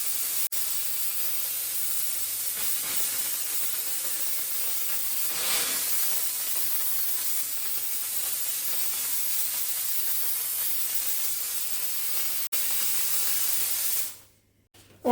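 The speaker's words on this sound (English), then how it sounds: "Without chemicals, just from the power of the steam." A Silvercrest SDR 1050 D1 handheld steam cleaner sprays steam on tile joints with a loud, steady jetting hiss that holds for many seconds, then cuts off abruptly near the end.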